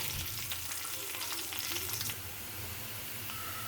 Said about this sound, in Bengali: একে কড়াই আমি আর একটু তেল দিয়ে পেঁয়াজ দিয়ে দিলাম